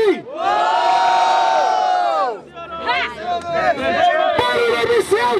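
A rap battle crowd at the final of a freestyle MC competition in São Gonçalo roars loudly for about two seconds, then breaks into scattered shouts, whoops and cheering.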